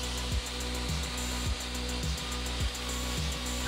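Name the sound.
wire brush cleaning wooden joists with vacuum nearby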